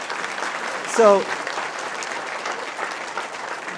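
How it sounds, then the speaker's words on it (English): Town hall audience applause, a steady wash of clapping from a room full of people, with a short spoken word and a voice heard briefly over it. "let's give Sarah another nice round of applause for being here today"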